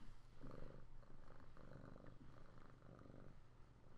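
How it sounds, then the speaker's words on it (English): Cat purring close by, a continuous rumbling purr with rhythmic pulses, soft and steady throughout. "Could you purr any louder?"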